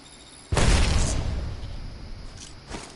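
A frag grenade in the Apex Legends video game goes off in a single sudden, heavy blast. The boom rumbles and fades over a couple of seconds, followed by a faint later pop, with no talking.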